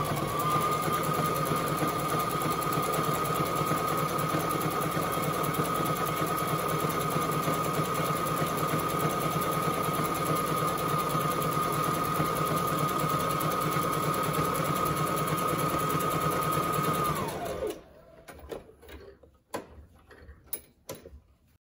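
A sewing machine fitted with a presser foot stitches fabric with a steady, whirring mechanical hum for about seventeen seconds. It then stops, leaving a few scattered clicks and knocks.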